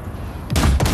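Heavy gunfire from the Basilisk hover tank in Cyberpunk 2077 erupts in two close, loud bursts about a third of a second apart, cutting in after a quieter rumbling lead-in.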